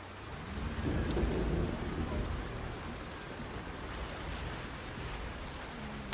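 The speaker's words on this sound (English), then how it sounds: "I don't hate the rain in general, but I hate the rain in this game." Rain in the video game Scrap Mechanic, a steady, even hiss of falling rain with a low rumbling swell like distant thunder near the start, faint and continuous with no voices.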